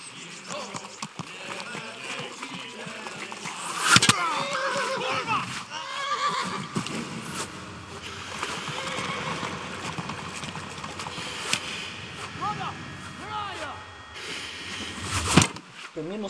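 A horse whinnies loudly and its hooves clop in the medieval video game Kingdom Come: Deliverance, the neighs repeating over busy game ambience and clattering movement.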